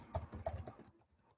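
Typing on a computer keyboard, a quick, faint burst of several key taps that fades out within about a second, with no talk.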